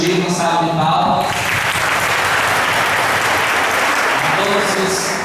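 A crowd at an outdoor Corpus Christi church celebration in Batalha, Piauí claps steadily, a full, even round of applause with a brief voice at the very start before the clapping swells.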